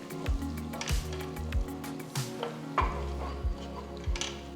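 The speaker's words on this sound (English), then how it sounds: "Now mix everything nicely." Spices being stirred into egg curry in a pan, with a spoon scraping and clacking against the pan in a steady rhythm over a soft sizzle. The stirring is close and moderately loud, with no talking.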